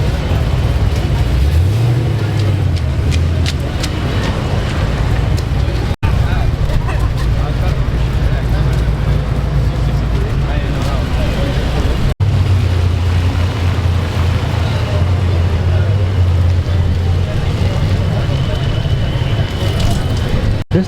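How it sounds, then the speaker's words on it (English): A Jeep's engine idles at a rainy cars and coffee meet, a loud, steady low rumble with a deep droning tone that continues unbroken, while people talk nearby. "This thing sounds supercharged. Oh wait, never mind, it's the Jeep."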